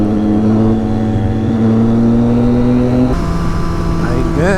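A Yamaha RX100 motorcycle engine holding a steady, loud tone, then stepping down sharply in pitch at a gear change and climbing again, with a voice speaking over it.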